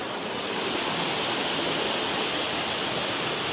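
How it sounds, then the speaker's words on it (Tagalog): Steady broadband roar of a waterfall at Little Hawaii Falls in Hong Kong, a constant close rush of falling water that holds even throughout, with no voices. "Dito na kami sa Hawaii Falls."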